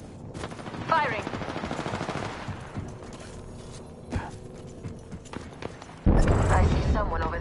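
Rapid bursts of weapon fire crackle in a space shooter game, with a long rattling volley early on and a dense loud barrage near the end, heard under a man's speech.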